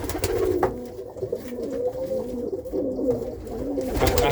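Irish tumbler pigeon cocks coo close by, a run of low, rolling, wavering calls repeating with little pause, with light wing or cage rustling at the start and end.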